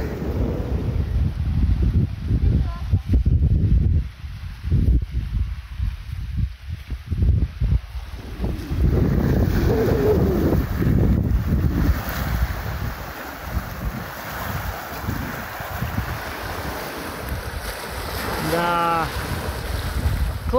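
Waves break on an Atlantic shore in Norway under strong wind, making a loud, continuous roar of surf and gusts buffeting the microphone, with a brief faint voice near the end.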